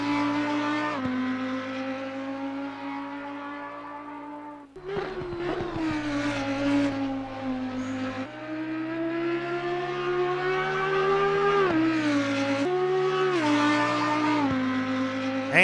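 An Audi Evo2 race car engine in Assetto Corsa Competizione at Watkins Glen howls steadily, rising in pitch and then dropping sharply at several gear changes, loud and continuous.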